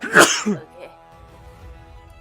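A single sharp sneeze bursts out close and loud in a tabletop roleplaying session, followed by a brief muffled vocal sound and then quiet room noise while someone murmurs a short word.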